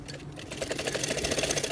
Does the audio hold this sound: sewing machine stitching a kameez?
yes